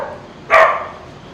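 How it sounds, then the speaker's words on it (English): A single short dog bark rings out at mid-distance on a homestead during lumber milling, a brief burst that fades quickly against a quiet background. "Now the dogs are barking."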